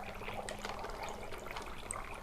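Soda is poured over dry ice, making a soft, continuous fizzing trickle with light bubbling, faint and steady from start to finish.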